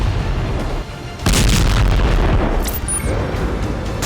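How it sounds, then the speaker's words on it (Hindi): Heavy bomb blasts from a phosphorus bomb attack near Al-Shifa hospital in Gaza: a loud booming burst erupts suddenly and rumbles on continuously, with sharp crackles and a brief high whistle over it. "वीडियो में एक के बाद एक भीषण बम धमाके"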